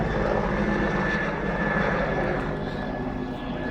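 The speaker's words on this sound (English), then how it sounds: "It's a military helicopter." A military helicopter flies overhead, a steady, loud, broadband rotor and engine roar that holds almost constant through the whole stretch and fades slightly toward the end, with no voices.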